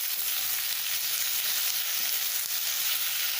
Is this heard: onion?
yes